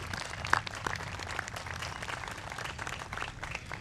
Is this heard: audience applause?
yes